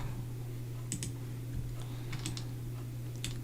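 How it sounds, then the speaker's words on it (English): Light keystrokes tap on a computer keyboard in a short burst of scattered clicks over a steady low electrical hum, with no talking. "we're going to type in warp"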